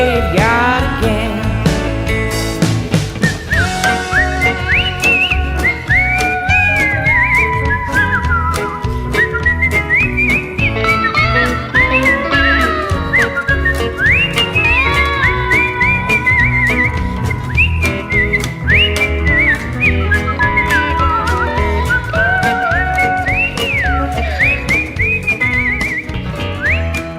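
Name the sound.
fancy whistling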